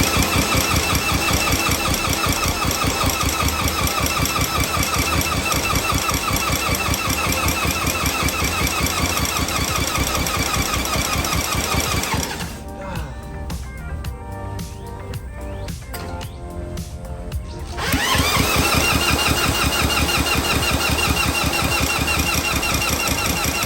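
A stubborn old engine cranks and tries to catch, a dense, loud rattling churn running steadily, dropping off for a few seconds in the middle before cranking resumes just as hard.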